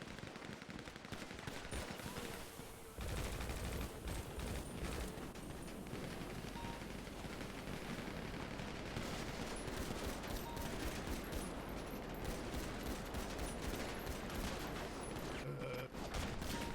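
Heavy gunfire erupts in GTA V NoPixel roleplay: after a short lull, dense overlapping automatic bursts hammer away loudly and almost without pause for more than ten seconds.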